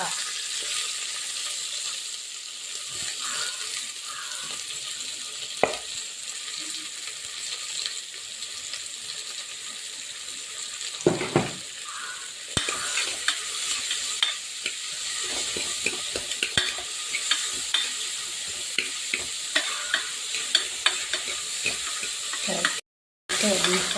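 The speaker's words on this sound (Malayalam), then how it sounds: "എണ്ണ ഒഴിച്ച് എണ്ണ ചൂടായതിനു ശേഷം രണ്ട് സവാള അരിഞ്ഞത് വഴറ്റിയെടുക്കുക" Two chopped onions sauté in hot oil, giving a steady close sizzle with occasional scraping and clicking stir strokes for a long stretch; a faint voice surfaces briefly.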